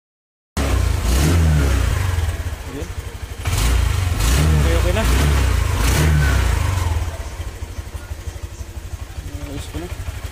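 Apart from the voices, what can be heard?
motorcycle engine started and revved after repair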